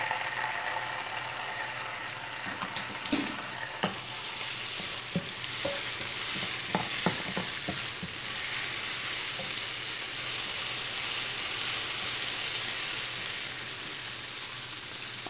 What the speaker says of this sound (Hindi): लहसुन को हल्का सा पकाने के बाद अब हम इसमें टमाटो पेस्ट डालेंगे।